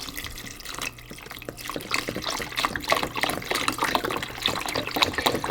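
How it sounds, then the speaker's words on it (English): Vegetable stock, two quarts, pours into a braising pot for a deer shank osso buco, a steady close splashing and trickling of liquid running continuously without talk. "We're going to add our 2 quarts of vegetable stock."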